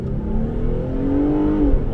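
A 3.6 L Pentastar Jeep Gladiator accelerates hard from a stop on gravel with its tires spinning, the engine note rising steadily and loud, close by, with no talk.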